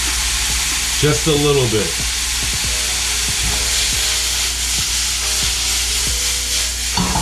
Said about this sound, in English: I'm gonna hit it with a little bit of cooking wine